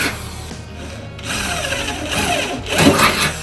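Power drill boring into a Toyota Land Cruiser's panel during offroad overlanding prep, a short whining motor burst that rises and strains near the end, close and fairly loud, with no talk.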